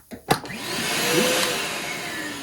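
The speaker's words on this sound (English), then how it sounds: "And this is just a little vacuum." A small wall-mounted shop vacuum, hooked up to a bench top blast box, starts with a couple of clicks and then runs steadily with a loud, continuous whine and rushing airflow, close by.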